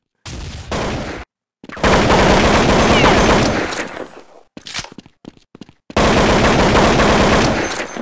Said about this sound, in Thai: ยิงเล่นทำไมวะ